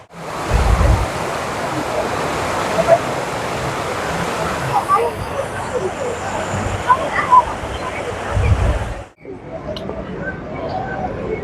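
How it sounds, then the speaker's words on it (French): A large ornamental fountain at VDNKh in Moscow makes a steady, loud rush of splashing water, continuous for most of the time before dropping abruptly to a quieter wash near the end. "Magnifique fontaine."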